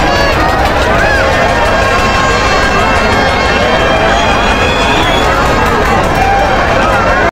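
A dense, loud crowd fills a Ram Navami village fair at Pajpandhari, a constant roar of many voices and movement with a person talking close by.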